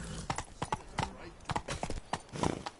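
Roach the horse's hooves clip-clop in a video game, a brisk, fairly close rhythmic trot of sharp hoof strikes repeating steadily throughout.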